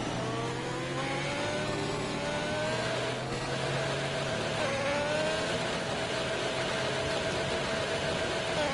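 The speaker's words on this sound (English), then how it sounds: "Lewis is revving the hell out of his car" A Formula 1 car engine revs hard at the Bahrain circuit, a loud continuous high-pitched scream with rising and falling pitch sweeps that holds steady for the whole stretch, heard alone.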